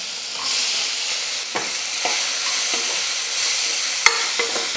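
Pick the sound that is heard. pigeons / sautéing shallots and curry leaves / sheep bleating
sautéing shallots and curry leaves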